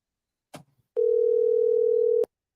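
A steady telephone tone rings out for just over a second, preceded by a brief click or handling sound, heard alone with no talking.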